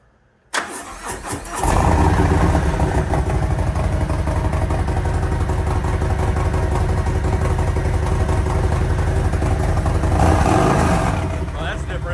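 A Harley-Davidson fitted with a 2-into-1 exhaust cranks briefly and then fires up loud and close. It settles into a deep, steady idle that runs on for about ten seconds.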